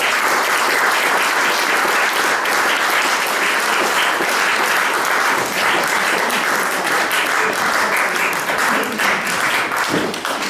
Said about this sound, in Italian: penso che merita un grande applauso